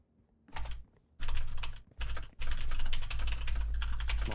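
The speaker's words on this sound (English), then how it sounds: "I was typing notes" Keyboard typing on a computer keyboard while playing Valorant, in quick, close, steady bursts that stop and start over a low background hum, with no talking.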